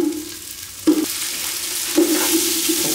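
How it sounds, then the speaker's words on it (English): Chopped onions fry in garlic-infused oil in a pan, giving a steady broadband sizzle. Two louder bursts of stirring and scraping come about a second apart, and no one speaks. "Cook the onions up a bit."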